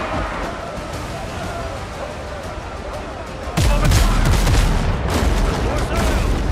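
Ship cannons firing in the pirate game Windrose: after a few seconds of rumbling sea and engine-like ambience, a sudden loud broadside of booming blasts erupts, followed by further heavy cannon reports and lingering rumble.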